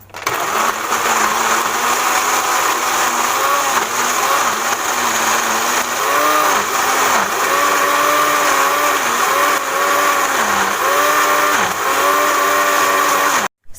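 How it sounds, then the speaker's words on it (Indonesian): Kitchen blender grinding curly chilies, shallots, garlic and candlenuts, a loud steady motor whir running continuously with small pitch wobbles as the blades churn the paste, heard alone. "Sekarang kita akan memblender cabai keriting, bawang merah, bawang putih, dan kemiri ya."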